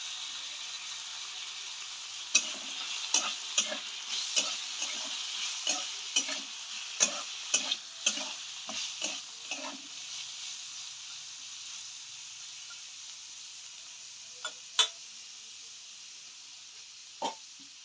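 Soaked chana dal fries in hot mustard oil with tomato, sizzling steadily while a spatula stirs it in a run of quick scraping knocks, then the stirring slows to a few isolated taps over the continuing hiss.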